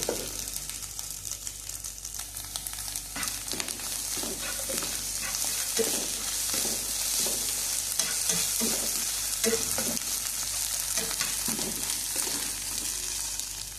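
Egg bhurji scrambling and drying out in a pan, a soft continuous sizzle under frequent scraping and tapping of a spatula stirring the eggs, close and steady with no voices.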